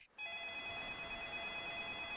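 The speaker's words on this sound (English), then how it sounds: "Oh, getting a phone call." A telephone starts ringing at night inside an indie horror video game, a sudden electronic ring that cuts in from near-silence and holds steady and clear, with no voices over it.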